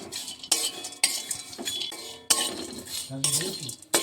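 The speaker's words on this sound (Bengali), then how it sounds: "জায়ফল জৈত্রী এলাচ দারচিনি এগুলো হালকা আঁচে একটু ভেজে নিতে হবে" A spoon scrapes and clinks repeatedly against a pan, sharp metallic hits every second or so, with a faint sizzle of nutmeg, mace, cardamom and cinnamon dry-roasting over low heat underneath.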